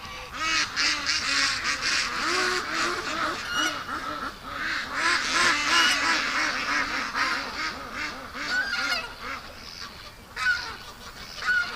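A flock of domestic ducks honks and quacks continuously nearby, a dense, overlapping chorus of calls lasting the whole stretch.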